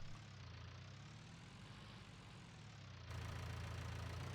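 Small tractor engine idling in Farming Simulator 2019, a steady low rumble held at one level, then a little louder and fuller near the end, with no voices over it.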